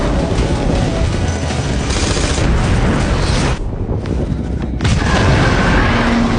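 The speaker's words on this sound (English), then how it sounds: "she wildly fires her gun" A woman fires a gun wildly in a desert movie scene. Dense, booming bursts of gunfire sound over a loud cinematic background, with a brief lull before the shots resume.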